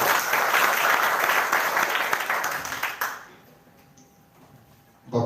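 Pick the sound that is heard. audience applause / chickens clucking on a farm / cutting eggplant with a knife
audience applause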